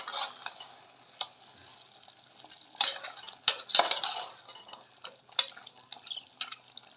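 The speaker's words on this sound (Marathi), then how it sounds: "आता झाकण काढून हलवून घेते." Chicken curry being stirred in a pot after the lid comes off, with scattered metal spoon scrapes and clinks over a faint simmering sizzle, close and intermittent without talk.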